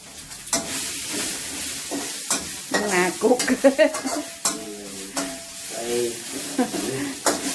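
Eel being stir-fried for a spicy Thai pad phet curry in a pan, loud close scraping and tossing strokes over a hissing sizzle, with brief voices in between.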